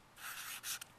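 A pen or pencil scratches briefly across paper during math notes, a soft close rub in a few short strokes.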